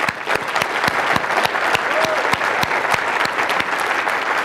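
A room of business event attendees breaks into sustained applause, dense and steady with sharp individual claps standing out throughout.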